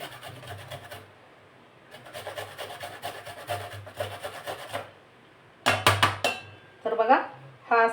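Fresh amla (Indian gooseberries) being finely grated on a metal grater in a home kitchen, with bursts of close, rhythmic rasping strokes separated by brief pauses and a few clinks of utensils near the end.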